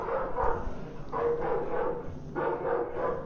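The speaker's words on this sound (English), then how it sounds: "Those are dogs." Dogs bark in a repeating series of three or four muffled, echoing barks, moderately loud and evenly spaced, heard inside an exhibit at the Reagan Library.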